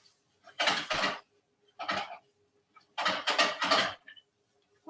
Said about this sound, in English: I'm just swishing around again. Get all that flour in there.